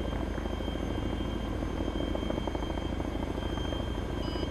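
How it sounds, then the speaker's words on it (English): A Chinook twin-rotor helicopter landing in a military video game: a loud, continuous low rotor drone with a steady engine whine, close and unbroken, with no voices. "your Chinook actually surprised the living shit out of me"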